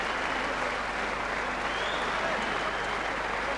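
Boxing crowd at a Gary Mason versus Oscar Holman fight cheering and clapping after the bout, a dense continuous roar of applause and voices that holds steady throughout.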